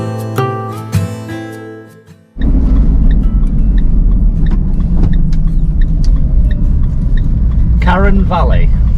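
Camper van driving along a road in the Scottish Highlands, a steady low engine rumble and road roar filling the scene after a quieter opening with music-like tones.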